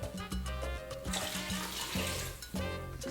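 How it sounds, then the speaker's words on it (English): Water poured into a pot holding about six cloves of garlic and olive oil while making homemade Puerto Rican empanadas, a steady close splashing and rushing stream that runs for about three seconds. "And we're gonna add some water."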